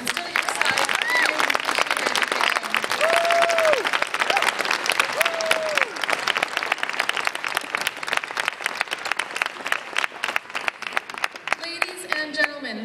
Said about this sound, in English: give a round of applause to those who have sacrificed and stood at your side